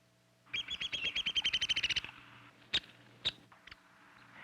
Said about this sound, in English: Here's my favorite, a downy woodpecker.